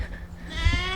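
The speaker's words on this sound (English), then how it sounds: "shut up goats" Goats bleat nearby, with a drawn-out cry rising toward the end of the moment over a low rumble, while people are talking.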